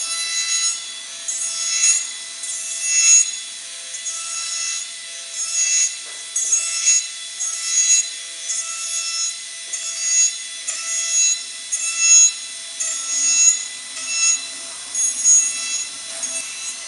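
Trimming the thermoplastic lingual flange of a dental NTI jig with a rotary bur, a steady high-pitched grinding whine pulsing in short repeated passes throughout, close and alone with no talk.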